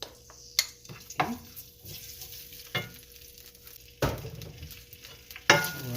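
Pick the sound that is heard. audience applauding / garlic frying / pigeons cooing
garlic frying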